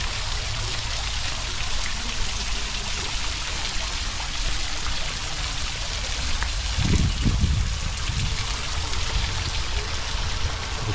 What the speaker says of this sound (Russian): сделан фонтан